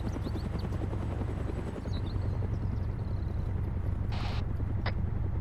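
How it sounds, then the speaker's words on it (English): An aircraft flying low overhead in the video game ARMA 3, a loud, continuous thrumming engine drone that holds steady throughout, with a few faint clicks and beeps over it. "Elector, watch out, there's a plane in the fucking sky."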